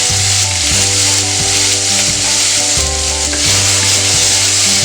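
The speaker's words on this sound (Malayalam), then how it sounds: "2ആയിട്ട് മുറിച്ച വെളുത്തുള്ളി, ഇഞ്ചി കഷ്ണങ്ങൾ ഇട്ട് കൊടുത്തിട്ടുണ്ട്. ഇനി 1 തണ്ട് കറിവേപ്പിലയും കൂടി." Halved garlic, ginger pieces, green chilli and a sprig of curry leaves sizzle loudly in hot oil, a constant close crackle with a low steady hum underneath, for a chicken curry.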